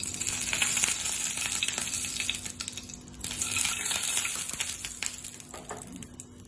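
Oil heating in a frying pan for a moong dal and rice breakfast, a continuous crackling sizzle with light spattering pops, steady and fairly close, with no talk.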